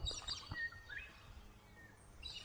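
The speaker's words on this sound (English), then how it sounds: "Sounds of the birds are amazing." Birds in Australia chirping and calling in short bright bursts, a few quick tweets near the start and another toward the end, over quiet outdoor background.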